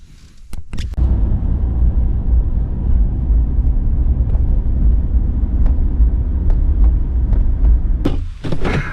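A car engine catches after a few clicks and thumps, then settles into a steady, close rumble as the car is driven, with a short clunk near the end.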